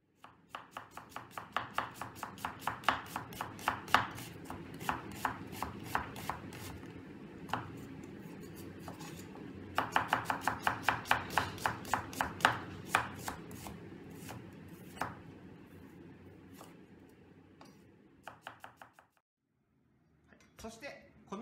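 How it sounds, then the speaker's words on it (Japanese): Onion sliced thinly on a cutting board, a quick steady run of crisp knife taps close by, pausing briefly midway and near the end, while a voice talks quietly over it. "玉ねぎは薄くスライスしていってください。"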